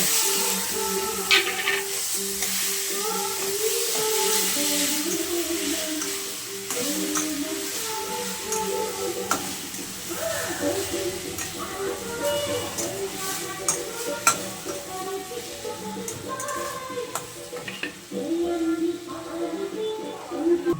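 Raw mango pieces frying in a pan while being stirred, with a close steady sizzle and repeated scraping and clinking of the utensil against the pan.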